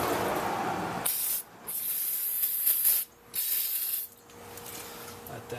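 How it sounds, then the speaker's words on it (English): Brake parts cleaner sprayed from an aerosol can onto a rear brake rotor of a 2004 Volvo XC90, three loud close hissing bursts separated by short pauses, with no talking. "I'm going to spray it down with some brake parts cleaner."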